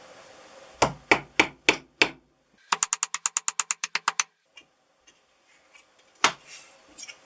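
Sharp blows of a large hammer on a small nail in a workshop: five spaced strikes, then a quick run of about a dozen lighter taps, a pause, and a final hard hit.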